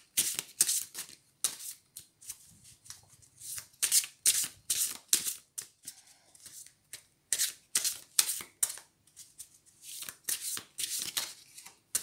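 Tarot cards are shuffled by hand in repeated crisp riffling bursts, close and fairly loud, with short gaps between each pass.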